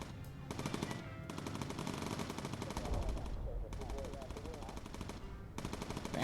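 Rapid machine-gun bursts from aircraft gunners aboard a bomber in the game Bomber Crew, loud and continuous with brief pauses between long strings of shots, over constant engine drone.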